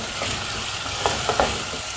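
Tomatoes and onions frying with salt in a pan for a fish curry, a steady close sizzle with a few brief stirring knocks.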